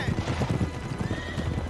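Horses gallop in Uncharted 3, a dense run of hoof clip-clops with occasional whinnies, loud and continuous beneath a wash of desert wind and game ambience.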